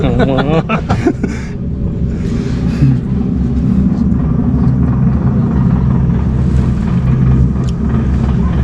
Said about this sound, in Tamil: அந்த ஒரு நம்ம ஒரு ரோப் காரில் தான் போகிறோம்